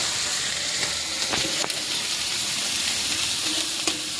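Vegetables frying in a pan for rice, cooked in a home kitchen alongside a fish curry, give a steady, close sizzling hiss that runs unbroken throughout, with a few faint clicks of stirring.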